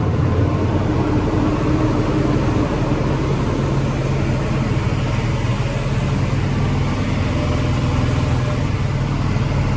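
A 2019 Hino Victor 500 truck with a 260-horsepower engine climbs a hill, its engine a loud, steady, close drone of broadband rumble that holds without a break, with no talking.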